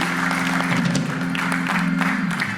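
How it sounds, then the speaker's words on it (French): An audience at an evangelical gathering in Antwerp applauds, with a steady mass of clapping and a low hum underneath, moderately loud and sustained. "Merci pour vos acclamations."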